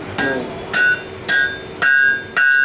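A smith hammers on an anvil at a fair demonstration, five loud ringing strikes about half a second apart, each leaving a bright metallic ring that hangs on between blows.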